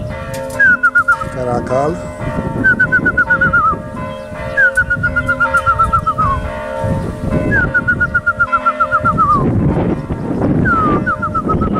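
Racing pigeons returning to the loft during a race, with repeated bright whistling calls sweeping up and down every couple of seconds over steady background hum, coos and clatter while someone speaks briefly.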